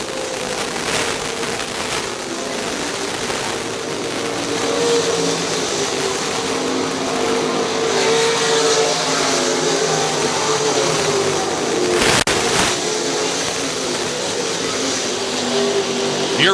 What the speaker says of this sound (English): Your race leader, J.D. Johnson, the 98 car, coming into lap traffic.